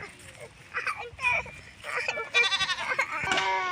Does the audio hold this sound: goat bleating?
yes